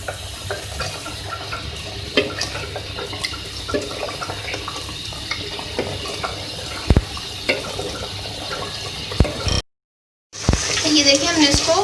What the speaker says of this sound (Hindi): ये देखिए हम उसको भून रहे हैं दही डालने के बाद।